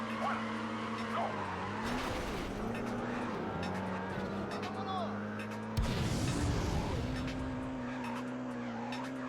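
Race car in the video game Midnight Club 2 pulling away from the starting line, its steady engine drone rising as it accelerates, with a sharp surge partway through, heard under a speaking voice.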